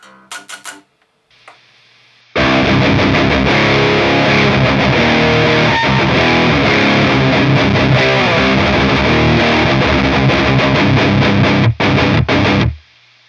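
A few clean plucked notes, then loud distorted electric guitar chords strummed through a tiny Hotone Vulcan Five-O amp with no pedal for about ten seconds before stopping abruptly.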